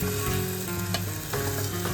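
Bombil fish tipped into hot oil tempering with Malvani masala, frying with a loud, continuous close-up sizzle and some stirring.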